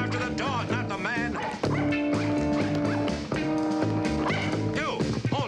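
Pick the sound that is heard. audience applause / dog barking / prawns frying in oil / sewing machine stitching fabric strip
dog barking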